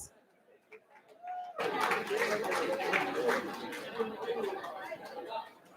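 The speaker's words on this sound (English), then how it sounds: "Please give MTC a round of applause." Applause and crowd chatter swell suddenly at a boxing event honoring a sponsor, a dense, sustained wash of clapping and murmuring voices after a quiet start.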